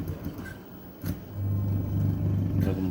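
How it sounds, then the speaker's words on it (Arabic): The motor of a semi-automatic washing machine runs with a low steady hum and faint clatter. It grows louder and steadier partway through, after a brief knock. "نجربوا الموتور معانا اهو."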